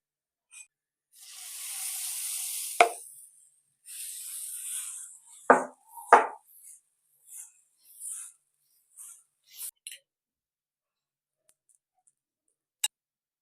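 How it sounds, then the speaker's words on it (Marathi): Mixed dal dosa roasts on a hot pan, giving bursts of soft sizzling hiss broken by sharp scraping and flipping clicks, then trailing off into quiet with one last tick. "पलटी करूया बघा या बाजूनी पण आता छान तो मस्त भाजला गेलाय"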